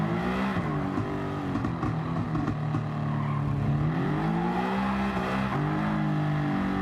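A 2014 Audi TTS engine in Gran Turismo 7 drones with a steady, loud, harmonic hum, the pitch rising and dipping slightly as the car is driven, with no voices.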